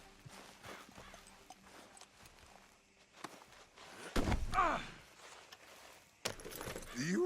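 Steady clip-clop of horse hooves in Red Dead Redemption 2 at a walking pace, moderately close, with a few louder clatters and rustling sounds mixed in.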